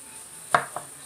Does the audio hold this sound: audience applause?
no